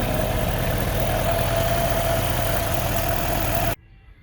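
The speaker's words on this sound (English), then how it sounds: "Got a bit of an exhaust leak around the heat riser" A 1959 Chevrolet El Camino engine idles steadily with a small exhaust leak near the heat riser, a loud continuous rumbling drone that cuts off abruptly near the end.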